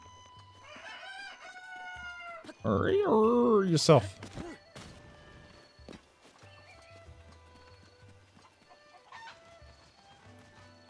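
Roosters in the video game The Legend of Zelda: Breath of the Wild crow loudly in a couple of bursts and cluck softly between them, with hoof clops beneath. A person speaks briefly.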